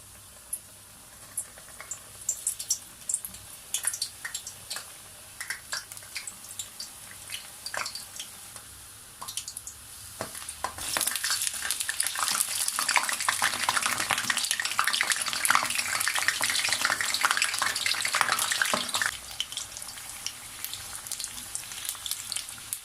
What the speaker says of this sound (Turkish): Şimdi ısınmış olan yağımın içine bırakarak iki tarafını da güzelce kızartıyorum.